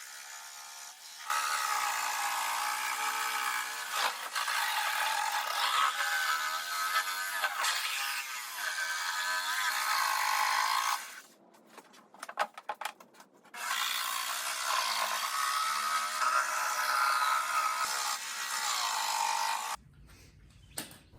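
A power tool cuts outlet holes through a plywood sheet resting slightly raised on a floor. It runs loud and steady in two long passes with a brief break between them, then stops abruptly near the end.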